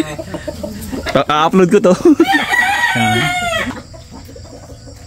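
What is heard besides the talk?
chickens clucking and rooster crowing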